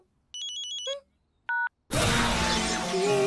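Electronic touch-tone telephone dialing: a quick run of about six steady beeps, then a single short tone after a pause, before a loud burst of broadband noise takes over.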